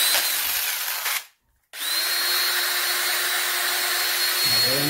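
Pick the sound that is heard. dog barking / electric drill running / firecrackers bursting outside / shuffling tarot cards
electric drill running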